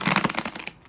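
Tarot cards are given a quick shuffle by hand, a brief burst of papery riffling and crinkling that tails off within a second, close and moderately soft, with no talking.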